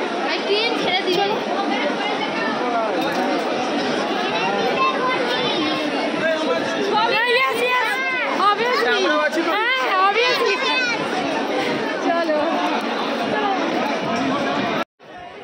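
Dense crowd chatter fills a packed passenger train bound for Digha, many overlapping voices close by in a steady, loud babble that runs unbroken until a sudden cutoff at the very end.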